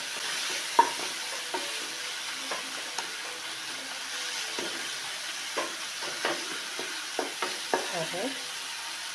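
Onions sautéing with turmeric in a pan for pottukadalai (roasted gram) kurma, a soft steady sizzle broken by a string of scraping stirs and light spatula taps, close and fairly quiet, with no talking.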